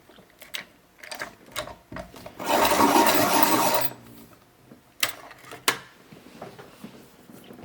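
A black colored pencil being sharpened, close and alone: light handling clicks, then about a second of steady gritty grinding, followed by a few sharp taps.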